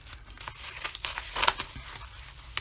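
Packaging for newly delivered paint brushes is unwrapped up close, giving irregular bursts of crinkling and tearing with a louder rustle midway and a sharp crackle at the end.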